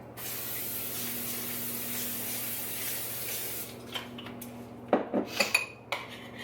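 Cooking spray hisses onto a pan for protein pancakes in a steady burst of a few seconds, then stops, followed by light clinks of utensils and dishes.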